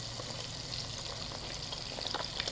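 Trout fry in a lightly greased pan with a soft, steady sizzle and occasional pops, a quiet close hiss running unbroken without any talk.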